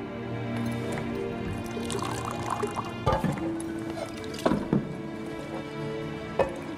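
Liquid pours steadily into a pint glass in a fantasy role-playing video game, a continuous trickling fill over a busy background of game sound.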